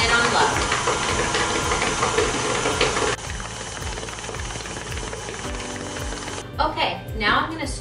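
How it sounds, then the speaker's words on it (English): A stand mixer beating American buttercream frosting gives a steady mechanical whir with a rhythmic knocking beat. It runs throughout, shifts tone partway, and has a voice talking over it near the end. "let it beat for a good 3-4 minutes before I scrape it down and do it 1 more minute on low"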